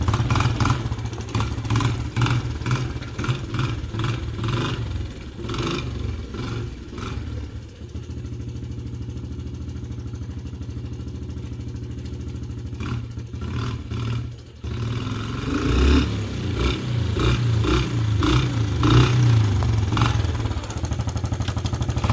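A Suzuki LT125 ATV engine runs steadily at a moderate level with an even mechanical clatter, picking up into louder revving toward the end.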